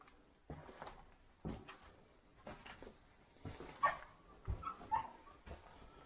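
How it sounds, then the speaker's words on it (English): Large dogs bark and yip in bursts at an abandoned forest ranch, several short sharp calls spaced over a few seconds, fairly near but not loud against a quiet background. "Those are big dogs."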